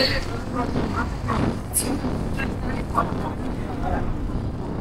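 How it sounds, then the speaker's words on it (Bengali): Strong wind at Rohtang Pass, a high snowy mountain pass, buffets the microphone in a constant rough roar, with people talking over it throughout. "প্রচন্ড হাওয়া।"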